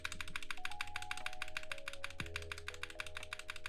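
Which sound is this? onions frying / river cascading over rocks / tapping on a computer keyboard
tapping on a computer keyboard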